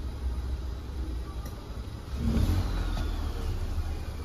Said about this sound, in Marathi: गाडी CNG वरती शिफ्ट झालेली आहे.